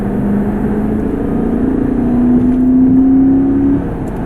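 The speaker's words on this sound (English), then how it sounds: "you can hear a little bit of that exhaust note, a little engine noise" Steady engine and exhaust drone from a 2006 Ford Mustang GT Premium merging onto a highway, heard from inside the car as a continuous hum that rises slightly in pitch and then settles, with no talking.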